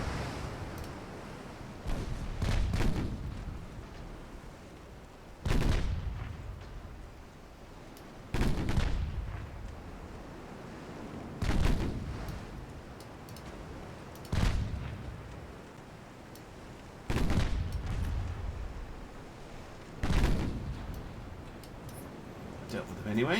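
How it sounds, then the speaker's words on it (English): Warship turrets firing in a naval battle video game: a string of heavy booming salvos, about seven evenly spaced blasts every few seconds, each with a rolling low tail, loud and close. "She fires more than one turret at a time."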